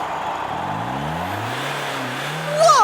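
A monster truck engine roars and revs at an arena rally, a rising throaty growl swelling steadily and then climbing sharply near the end.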